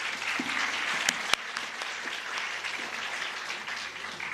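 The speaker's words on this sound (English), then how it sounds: "Please give a big round of applause." Applause for a speaker at a national seminar on psychology and homoeopathy, dense continuous clapping from the audience with a couple of sharp louder claps standing out early on.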